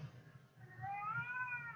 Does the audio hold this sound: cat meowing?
yes